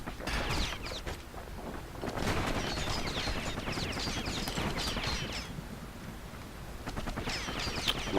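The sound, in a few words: gunfire in the video game Bastion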